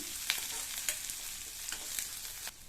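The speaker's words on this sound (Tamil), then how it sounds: "இந்த வெங்காயத்தை லைட்டாக வதக்கி விட்டால் போதும்" Onion, slit green chilli and curry leaves sauté in a pan, with a soft continuous sizzle and several light stirring scrapes, close but quiet, without speech.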